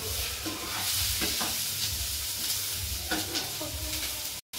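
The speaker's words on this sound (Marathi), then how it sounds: "कांदा टाकलाय. आता जरा हलवून घेऊ." Chopped onion fries in a pan and is stirred, with a soft steady sizzle under a few scraping strokes of the spoon against the pan.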